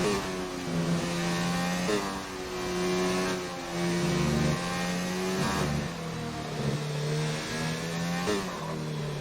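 A Ferrari race car engine in an Xbox racing game revs steadily at high pitch, climbing and dropping through gear changes, loud and close throughout with no voices.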